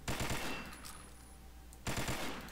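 AUG A1 Black rifle firing in burst mode, two quick bursts of rapid sharp shots separated by a brief pause, loud and close.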